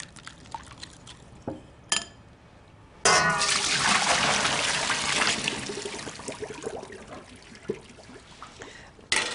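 Cooked pasta water gushes loudly into a colander in a home kitchen, a sudden sustained splashing pour after a few light clangs, tapering off with drips and a final clatter.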